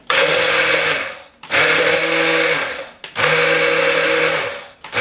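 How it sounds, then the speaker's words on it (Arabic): A blender grinds egg with oil being added for a sauce, a loud, steady motor whine running in three long bursts separated by brief pauses, close and alone. "درناها في كاس ديال الطراب وغادي نبدا كنطحن فيها"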